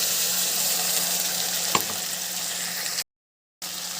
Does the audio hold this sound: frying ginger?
yes